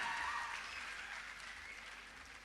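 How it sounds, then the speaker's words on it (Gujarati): A college function audience at Harivandana claps after a lively stage performance, a steady, dense wash of applause that starts strong and eases slightly toward the end. "એકવાર જોરદાર તાળીઓના ગડગડાટથી પરફોર્મન્સને વધાવીએ."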